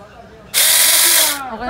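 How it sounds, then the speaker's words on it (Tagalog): A mini chainsaw at a market in Riyadh revs up abruptly and whines loudly and steadily for about a second before winding down. "binayaran na ni Palangga ang mini chainsaw"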